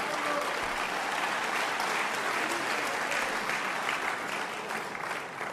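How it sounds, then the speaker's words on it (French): Audience applause at a French presidential campaign speech in Strasbourg, a dense, steady wash of many hands clapping that fills the hall for several seconds without letting up. "Vous avez le droit d'applaudir"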